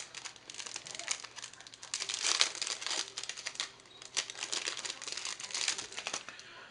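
Crinkly plastic wrapper of a Dice Masters D&D Faerun Under Siege card pack being handled and torn open, quiet close rustling in irregular bursts with no speech.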